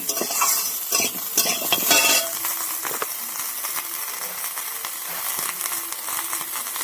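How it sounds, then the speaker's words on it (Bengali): Food fries in a hot pan until browned, with a constant close sizzle and busy metal stirring scrapes that are heaviest at the start, then ease into steady frying. "লাল লাল করে ভাজতে থাকো।"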